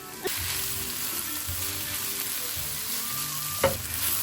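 Bitter gourd (karela) bhaji with onions sizzles and fries in a pan, a steady close crackle broken by a few soft stirring scrapes and one sharper clink near the end.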